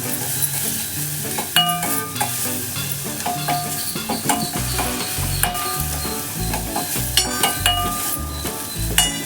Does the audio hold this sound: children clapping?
no